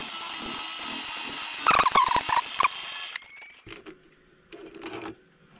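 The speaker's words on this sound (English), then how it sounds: "I'm going to put the number 18 drill bit and bore that back" A number 18 drill bit turns in a mill, boring into a part for a desktop orrery solar system model. A steady whirring grind gives way to a few sharp metallic clinks and quieter mechanical ticks.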